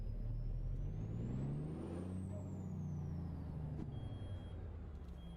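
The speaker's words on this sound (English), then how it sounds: "My brakes trying to lock up." A truck's brakes try to lock up while it is moving, giving a hissing air-brake sound with a rising and falling whine over the heavy engine rumble.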